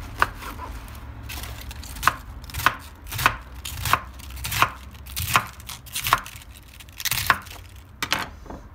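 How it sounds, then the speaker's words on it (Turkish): A knife chops rhythmically through washed cabbage on a board for mixed pickles, sharp crisp strikes coming in irregular bursts, close and clear with no talking. "Lahanamı güzelce yıkadım, yarısını ayırdım. Şimdi güzelce doğrayacağım karışık turşu için."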